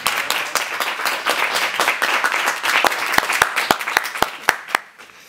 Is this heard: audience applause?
yes